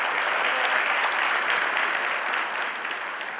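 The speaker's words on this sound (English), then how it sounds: "Please give them a huge round of applause." Audience applause at a school reunion banquet in Chicago fills the room as a dense, steady wash of many hands clapping, holding loud throughout and tapering slightly toward the end.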